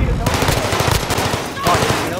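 Rapid bursts of automatic gunfire from a shooter video game rattle loud and close, overlapping in a fast stutter with a second volley near the end.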